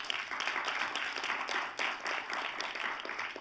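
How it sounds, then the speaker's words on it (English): A crowd applauds warmly, a dense wash of many hands clapping at steady volume throughout, with no speech over it. "she deserves a loud round of applause"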